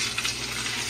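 Wheat gluten (mì căn) dough sizzles in a hot pan, making a steady, close hiss of frying.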